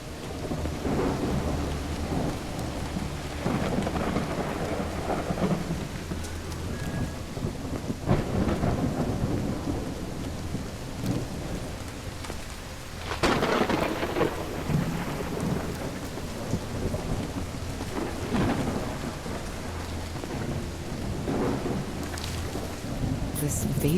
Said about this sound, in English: It's raining cats and dogs here.